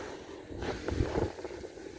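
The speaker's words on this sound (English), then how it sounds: "That wind is blowing so hard, I hope you can hear me." Strong wind buffets a handheld microphone outdoors, with a low, rumbling, uneven roar and muffled gusts that swell and fall over two seconds.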